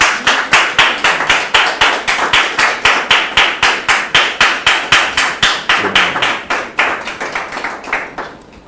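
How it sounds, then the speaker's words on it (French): Studio audience clapping in unison to welcome a guest onto a talk show: loud, sharply rhythmic claps at about three per second, tapering off toward the end. "On la reçoit sous vos applaudissements"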